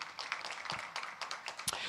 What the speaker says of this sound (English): round of applause for City National Bank